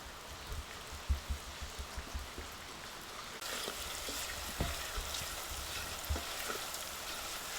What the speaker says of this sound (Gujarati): હવે જો આપણે મરચાં મસ્ત તળાઈ ગયા છે, લીમડો બહુ સરસ થઈ ગયો છે.